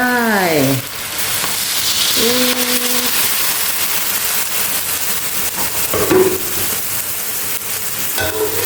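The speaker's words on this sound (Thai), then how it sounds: "น้ำดื่มนะอาใส่ลงไป" Drinking water poured into a pan of sizzling spicy stir-fried noodles gives a loud, continuous hissing sizzle, close by, with a voice speaking briefly at the start and a few short vocal sounds later.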